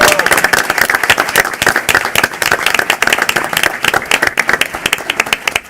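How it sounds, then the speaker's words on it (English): A crowd at a Chicago school district event applauds students, the clapping close and lively with distinct individual claps standing out in an uneven, energetic rhythm, plus scattered cheers and voices in the mix. "Let's give these students a round of applause."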